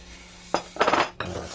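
A utensil mixes flour into cake batter in a bowl for an upside-down pear cake, making two or three short, close scraping and knocking bursts against the bowl with brief quiet gaps between them.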